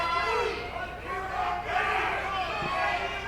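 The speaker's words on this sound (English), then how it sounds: "Now you can hear the crowd getting excited." An arena crowd at an MMA feature fight roars and yells in a dense, loud, continuous swell of excited voices.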